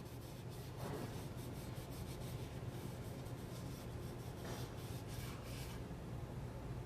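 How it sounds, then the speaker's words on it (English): Clean soft cloth rubbing finish into a carved wooden gun stock during refinishing, a steady close, soft scrubbing hiss with a few stronger strokes, no talk. "I'm just going to rub it in"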